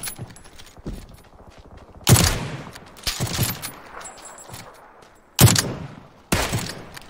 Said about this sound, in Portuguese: Errei esse tiro, porra.